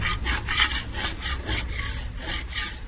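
Steady rhythmic scraping, a hard tool rasping back and forth to remove liquid glass residue from a ceramic surface in repeated strokes, fairly close and continuous, with no talking.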